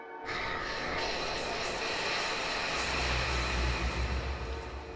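The spirits of the fort in the video game Betrayer make an eerie, hissing, wind-like drone that swells in quickly and holds steady, with a deeper rumble rising toward the end.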